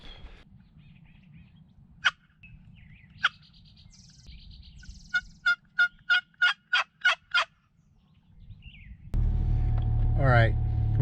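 Wild turkeys gobble far off in open country, two isolated calls followed by a rapid series of gobbles, carried faintly over light wind. A loud rush of wind or vehicle noise takes over at the end.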